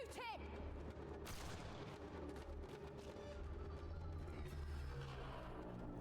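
Gunfire from a shootout in the video game Mass Effect: Andromeda, a dense stretch of shots and booms with low rumbling running steadily throughout, voices faintly mixed in.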